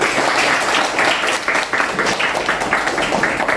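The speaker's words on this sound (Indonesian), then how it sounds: "tepuk tangan dulu kita ya" Schoolchildren in an Indonesian classroom lesson clap together at their teacher's cue, a loud, fairly rhythmic burst of many small hands that stays steady and close throughout.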